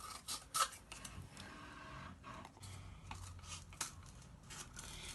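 Scissors snipping paper or card to cut out puppet ears, a few soft, scattered close-up cuts and rustles over low room noise, fairly quiet and with no talking.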